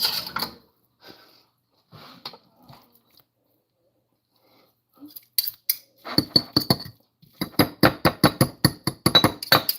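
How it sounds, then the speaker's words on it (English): Pad Thai noodles with homemade tofu being stirred in a pan, starting with a few scattered clinks and scrapes and then settling into a quick run of rhythmic, close utensil taps against the pan. "let me just stir it up because it was kind of sticking together here as it was sitting"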